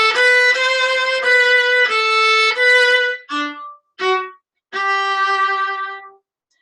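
A viola plays the second fragment of Minuet 3: a run of sustained bowed notes followed by short detached staccato notes and a final held note that fades out, close and clear with no talking.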